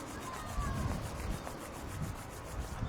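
Palms rub briskly together to warm up during a Qi Gong session for the spine, a steady close-up friction sound with soft rhythmic swishes throughout.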